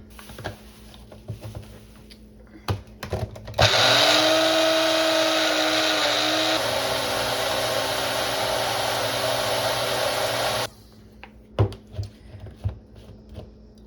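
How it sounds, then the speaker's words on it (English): A blender purees onion, garlic and cilantro for salsa, a loud steady whirring roar that starts abruptly, holds for about seven seconds with a slight pitch shift, then cuts off, framed by small clatters. "we're going to just blend all that until it's smooth"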